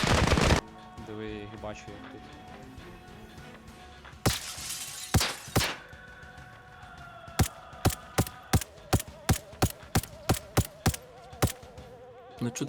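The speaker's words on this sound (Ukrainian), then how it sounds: "чути, як ти стріляєш." Gunfire in a military shooter video game, starting with a loud burst, then scattered single shots and a rapid run of sharp, evenly spaced reports, over low game ambience.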